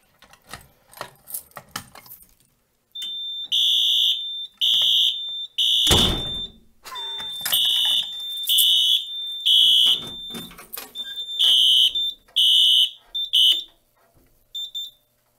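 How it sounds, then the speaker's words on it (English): After some clicking and mechanical handling of a pull station, a fire alarm sounds in loud, regular bursts of a shrill electronic tone, with a sharp slam partway through and repeated pulses continuing to the end. "We will now pull a fire alarm."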